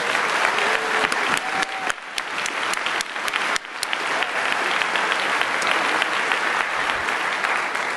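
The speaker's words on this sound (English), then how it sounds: "I'd like to get a round of applause for them." Sustained audience applause fills a large hall at the DEF CON 22 hacker convention closing ceremony, steady and dense throughout with a brief dip partway, no talk over it.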